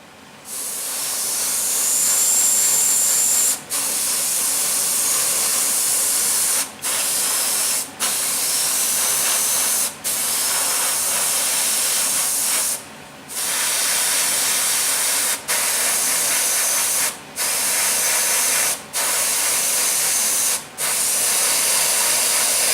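Blue spray paint being sprayed onto the seat of a Tamiya F1 Williams FW24 scale model, a steady close hiss in long bursts broken by brief pauses, with no talking.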